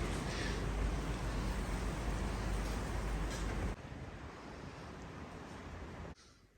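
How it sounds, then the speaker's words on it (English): Wind on a squally day at a boatyard haul-out, a loud, roaring rush buffeting the microphone that suddenly drops to a softer steady blow. "it really is a pretty windy day with lots of squalls coming through"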